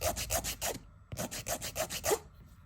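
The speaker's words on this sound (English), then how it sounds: "I'm gonna take my file and I'm gonna go all over the top of my nail" A nail file rasps over an acrylic nail in quick rhythmic bursts, about five strokes, a short pause, then six more, close and fairly quiet.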